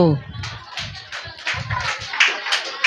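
An audience claps in short bursts at a church Vacation Bible School prize programme at a prayer house, mixed with a voice speaking over it.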